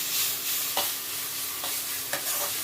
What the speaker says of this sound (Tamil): இது நல்லா லைட்டாக வதங்கட்டும்.